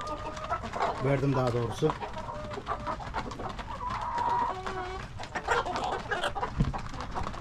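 Chickens cluck and chirp around a farmyard after feeding, a busy mix of fowl calls near and far, with people talking over them throughout.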